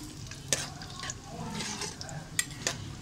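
Garam masala roasts in hot ghee for a khatta chicken salan as a spoon stirs through it, giving a soft continuous sizzle with a few sharp scrapes against the pan. No one speaks.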